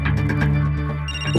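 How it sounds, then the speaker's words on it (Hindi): A phone ringtone rings loudly and steadily up close, a sustained electronic tone with a repeating melodic pattern, nothing else over it. "किसका फोन है?"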